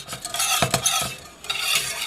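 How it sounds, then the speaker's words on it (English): A whisk scrapes and clinks rhythmically against a metal pot while stirring milk into a thickening sauce for creamed tuna, close and steady with brief pauses. "I'm going to use my whisk to stir it and return it to the heat."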